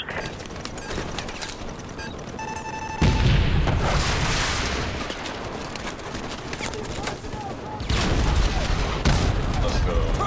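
Explosions boom in a Call of Duty 4 Remastered battle at a bridge as tanks are destroyed, heavy blasts and gunfire at about three and eight seconds over continuous combat noise, with shouted voices mixed in.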